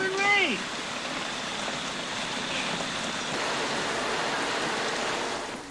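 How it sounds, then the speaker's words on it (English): Heavy pouring rain in a movie scene, a steady loud hiss of falling water running without a break, opening with a brief swooping tonal sound before the downpour carries on alone. "Pouring rain."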